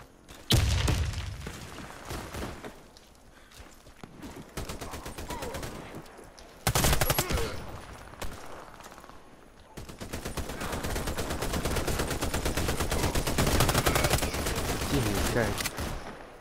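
Rapid, loud shotgun fire in the Warface shooter, with repeated bursts of blasts and a long dense stretch of gunfire near the end, player voices talking over parts of it.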